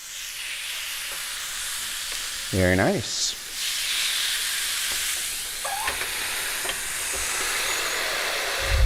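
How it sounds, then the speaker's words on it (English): Constant loud hissing sizzle of a steak frying in a hot pan, with a brief whistling tone and a few clinks; a voice speaks briefly. "And the sizzle."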